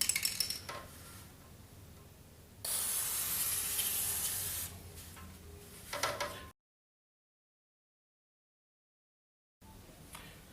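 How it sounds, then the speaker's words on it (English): Lubricant spray hisses onto a chain in one steady burst of about two seconds, close and moderately loud, between quieter handling clicks and a silent gap. "Okay, so now we're going to lubricate our chain."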